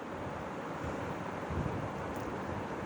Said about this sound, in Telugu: ఎసురు బాగా ఉడుకుతుంది కదా.